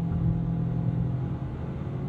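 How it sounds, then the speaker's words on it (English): A Ford Maverick Tremor's four-cylinder engine drones at full throttle with a steady, harsh, buzzy hum and low rumble, heard from inside the cab without a break. "that four-cylinder does have this buzziness to the sound"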